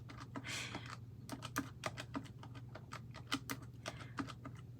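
Quick clicks on a calculator keypad pressed with long nails, a steady run of small sharp taps close by, alone without talk.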